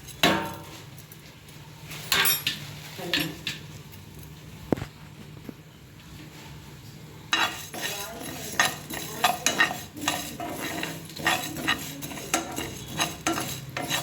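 Homemade garam masala spices dry-roasting in a hot pan, with a spoon scraping and stirring in irregular close clinks and scrapes over a faint crackle, no talking.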